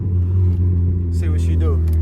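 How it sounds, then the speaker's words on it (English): Turbocharged Honda Accord with a K24Z3 engine, heard from inside, pulls hard with a loud, steady engine drone and a rising tone, and a voice speaks over it. "I'm gonna go second gear and then third"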